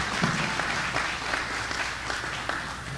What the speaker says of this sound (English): Let's give her a round of applause to be here first.